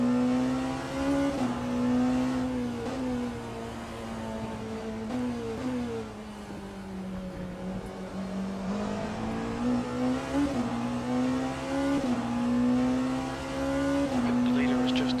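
Porsche GTP race car on wet tires at Imola in Le Mans Ultimate, its engine droning loudly and continuously, pitch rising and falling through gear changes and corners.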